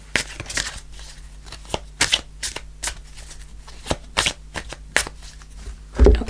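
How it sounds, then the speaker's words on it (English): Angel answer cards shuffled by hand for a tarot reading, a run of crisp riffling bursts repeating every second or so, close and fairly loud, with a dull knock near the end. "I'm going to go and pull an angel answer card"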